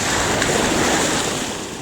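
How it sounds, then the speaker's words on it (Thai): Ocean waves surge and splash straight onto a camera at the shore of a bay, making a loud, dense, continuous roar of rushing water and wind buffeting close to the microphone. "โอ้คลื่นสาดโดนกล้องผม"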